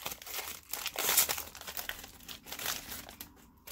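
Close, crinkly foil tearing and crumpling as a fat pack of 2020 Panini Donruss football trading cards is ripped open, a few seconds of rustling with no voice.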